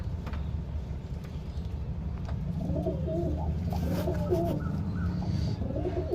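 Male and female pigeons coo in a loft where chicks are kept, giving soft repeated throaty calls over a steady low background rumble.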